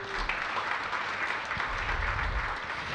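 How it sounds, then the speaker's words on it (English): A crowd at a mayoral street-grants award event applauds in a continuous, even burst of clapping at moderate distance, with faint low rumbles underneath. "Give them a round of applause"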